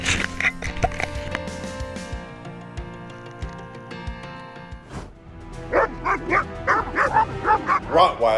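Rottweiler barking in a quick series of sharp barks near the end, preceded by several seconds of music and background sound.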